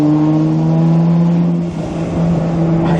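Heard from inside a Toyota Supra, the engine pulls steadily under acceleration with a strong, even drone, eases briefly, then builds again, close and loud throughout.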